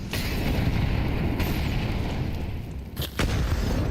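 A grenade explodes in Counter-Strike 2 during a tournament match, a dense low rumbling boom sustained for several seconds with a brief dip and renewed burst near the end.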